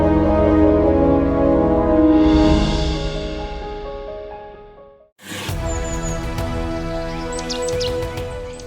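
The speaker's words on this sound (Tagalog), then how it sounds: "ang huni ng mga almugan ang nagsisilbing gabay ng mga katutubo sa kanilang araw-araw na paggising" Almugan birds call in a dense, continuous chorus of chirps and tweets in the wild, with a brief dip in loudness midway before the calling resumes at full strength.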